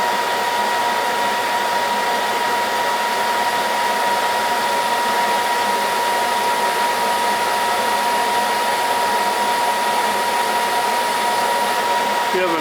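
A power tool running at about 500 RPM cuts a radius into an unidentified metal, giving a loud, steady whirring drone with a constant tone that holds unchanged for the whole stretch.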